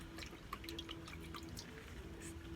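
Freshly picked tomatoes being washed in water in a backyard setting, with steady close dripping and light splashing continuing throughout.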